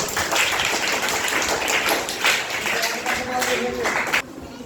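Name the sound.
clapping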